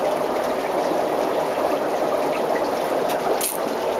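Liquid pours in a steady, continuous stream during a dry ice wizardry session, a close, even splashing trickle lasting the whole few seconds with faint background noise.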